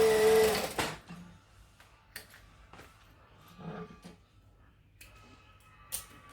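A sewing machine stitching a folded fabric seam: a short, loud whirring run at the start that stops abruptly, followed by quiet with scattered small clicks and handling sounds.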